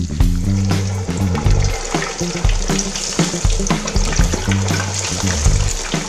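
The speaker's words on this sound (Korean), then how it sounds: "튀기는 소리 한번 들어보시죠." A 2 kg leg of lamb, steamed first and then deep-fried in oil heated to 180 °C, gives a loud, steady sizzle full of crackling pops close by, with a low tonal backing underneath.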